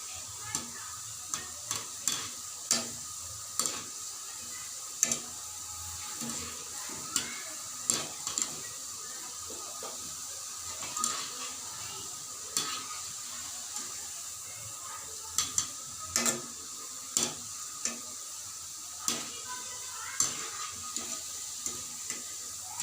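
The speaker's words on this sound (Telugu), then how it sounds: "సిమ్లో పెట్టే వేయించుకోండి." Bread pieces frying on a low flame, a soft continuous sizzle punctuated by frequent sharp clicks and taps from turning the pieces in the pan.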